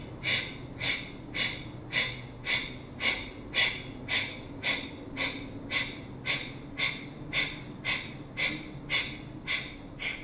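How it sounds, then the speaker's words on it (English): Rapid, forceful yogic breath of fire at a steady pace, about two sharp exhales per second, with sustained evenly spaced breathy bursts close to the mic and no talking. "20 steady breath of fire."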